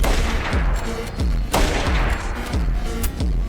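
Repeated gunshots ring out in a movie scene, a loud, rapid series of sharp cracks with booming low-end thuds, roughly every half second, with no talking over them.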